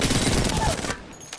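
Rapid automatic gunfire from a shooter video game pours out in a dense, continuous burst for just under a second, then drops to a quieter tail.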